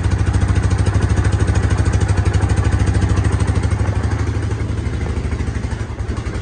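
A Hisun 550 UTV engine idles steadily and loudly up close, a fast even low putter with some mechanical clatter, running alone with no talk.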